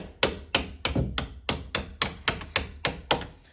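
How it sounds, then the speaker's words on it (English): A hammer strikes a metal punch to drive out a door hinge pin: about a dozen sharp, evenly spaced metallic blows, close and clear, with no talking. "We'll want to take our hammer and a punch and take out that pin."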